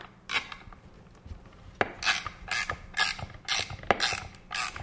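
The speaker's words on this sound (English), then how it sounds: "Put my embossing pad on top of that, my plate on top of that, and run it through the wizard" A Spellbinders Wizard embossing machine cranks an embossing plate and pad through its rollers, a series of close, quiet ratcheting clicks and creaking mechanical turns in a regular rhythm, with no talking.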